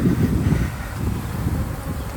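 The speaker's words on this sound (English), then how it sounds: "Got a nice setup of bees here." Dense, steady buzzing of many honey bees in a bee yard full of overwintered queen nucs, loud and close throughout with no talk.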